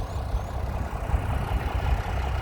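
A New Holland tractor engine runs steadily at low revs, a continuous deep rumble close by with no pauses, heard during land clearing with tree pulling.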